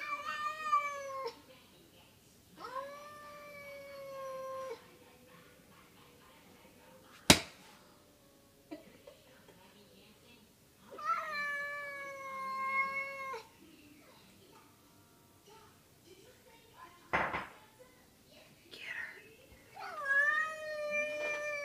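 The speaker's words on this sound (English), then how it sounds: "Cat getting treats." A cat meows repeatedly while getting treats, drawn-out, wavering calls with pauses between them, punctuated by two sharp clicks or taps, fairly close.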